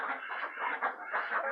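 Frizzle chickens, among them a gray-bluish one, clucking and murmuring continuously in a flock, close and fairly loud with overlapping soft calls and no talk.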